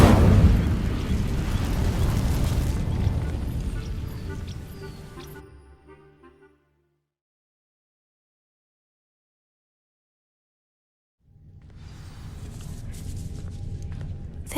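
A loud burst of a fire spell igniting dry vines in Hogwarts Legacy, a roaring blast that fades over several seconds into silence before a low rumble returns.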